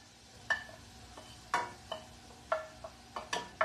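Onion and garlic go into a warming pan on a gas stove, giving a soft sizzle broken by sharp clinks and scrapes of a utensil stirring at irregular intervals, close and fairly quiet.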